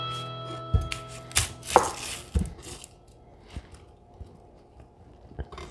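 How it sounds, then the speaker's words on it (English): A knife chops an onion on a cutting board for a zuppa soup, giving several sharp, close chops in an uneven rhythm with quieter knocks between them. "We're gonna start cutting up on the onion."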